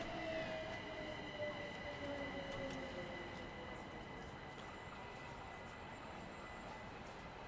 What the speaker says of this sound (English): I've noticed he's got the singing rail.